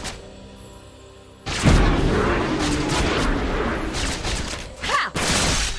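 Gunfire in a competitive shooter match: after a quiet moment, a sudden loud blast followed by a sustained roar of shots and explosions, with a sharp second burst near the end.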